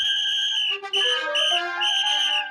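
A shrill whistle sounds in sustained, pitch-bending blasts with a short break, loud and alone with no talk over it.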